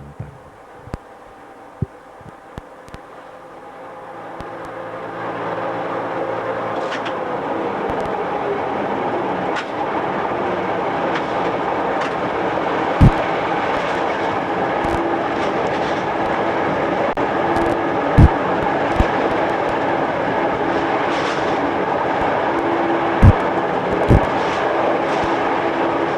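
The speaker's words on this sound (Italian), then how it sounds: "Il treno riprende ora velocità" Train picking up speed on the Bohinj railway (Wocheinerbahn) cab ride, descending under Mount Hom: a low rolling rumble swells after a few seconds into steady loud running noise, punctuated by occasional sharp clanks and rail joint knocks.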